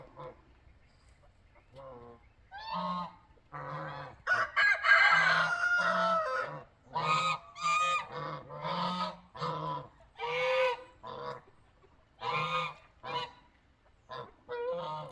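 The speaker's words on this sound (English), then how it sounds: "The geese are enjoying their day in the pond" Geese on a pond honk repeatedly in bursts, loud and close, with overlapping calls and crowing-like cries continuing throughout.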